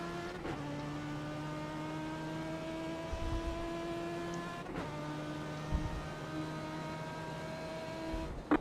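Race car engine in iRacing at Okayama, holding a steady harmonic drone through the lap, with brief dips as gears shift and throttle changes before the revs climb again.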